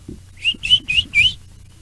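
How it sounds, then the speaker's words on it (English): A person whistles to call a stray dog, four short rising whistle notes in quick even succession, clear and close over faint low background rumble. "As you whistle, this stray dog limps out of the alleyway here"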